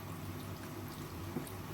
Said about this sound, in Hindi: और चलें, इनमें सबसे पहले मैं पानी ऐड करूँगी।